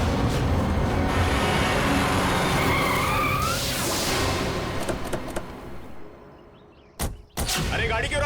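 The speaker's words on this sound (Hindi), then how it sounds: "अरे गाड़ी क्यों रोक दी? देख के चला ना।" A car skids to a stop on a road, with a long loud tire squeal sliding across the first several seconds, then fading into a quieter lull and ending with sharp bangs and renewed noise.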